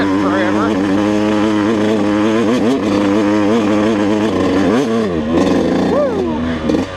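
A Yamaha YZ125 two-stroke dirt bike engine, fresh top end being broken in, drones loudly and near while ridden at moderate pace, rising and dipping in pitch as the throttle shifts, with a brief sharper rev toward the end.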